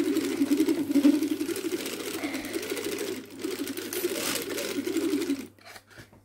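A hand-cranked circular sock machine knits waste yarn with a steady rapid clatter and whirr, close and fairly loud, running for about five seconds before stopping, followed by a few light clicks.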